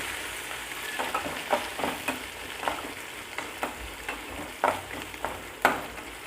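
Fresh coriander leaves sautéed in a pan for pongal: a soft background sizzle punctuated by regular spatula scrapes and taps, roughly one per second, close and unaccompanied by speech.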